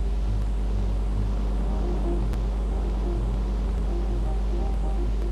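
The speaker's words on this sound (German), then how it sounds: "Der 230 PS Dieselmotor wird für Fahr- und Kranbetrieb gemeinsam" The 230 hp diesel engine of a ZEMAG ADK 200 T mobile crane runs in a steady, loud, low drone with a throbbing rumble, close and continuous throughout.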